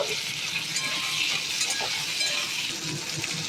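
Potatoes and green peas fry in leftover oil in a pan, giving a steady, close, dense sizzle with crackling throughout and no talking.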